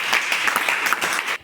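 A class of children clapping together in a short burst of fast, dense applause, close and loud, then cut off abruptly.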